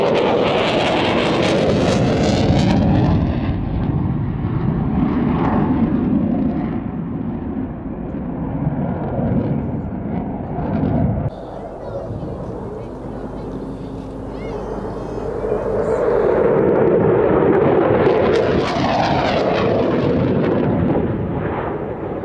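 Eurofighter Typhoon jet at an air show, a loud, continuous roaring jet engine that dips briefly midway, then swells again as the aircraft passes close.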